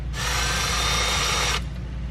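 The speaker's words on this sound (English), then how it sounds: "this drill bit's about to go through my kneecap" A power drill whirs steadily for about a second and a half while drilling inside a 1600 hp Corvette's cabin, then cuts off abruptly, loud and close over a low background rumble.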